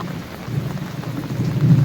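Monsoon rain pours steadily in a Gujarat village in the month of Shravan while low thunder rumbles beneath it, the downpour loud and continuous with a heavier surge toward the end; no one speaks.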